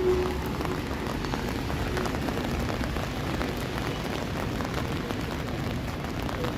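Rain falls steadily on a Toronto city street between evening thunderstorms, a dense even hiss of drops on pavement and surfaces with no voices.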